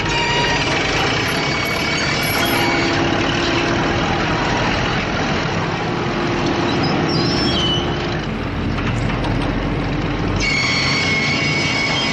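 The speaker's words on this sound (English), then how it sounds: "train almost tipped over, they managed to drag the block a few yards" Train-mounted heavy machinery straining to drag a massive stone block, a loud continuous grinding rumble with metallic squeals and clanks throughout, no voices.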